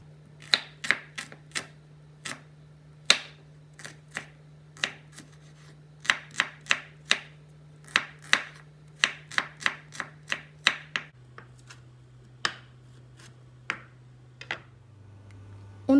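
Chilies are sliced on a board with a sharp Steen Cookware knife, making a series of crisp, close, irregularly spaced chopping taps, some in quick runs and others spaced apart, with no talking.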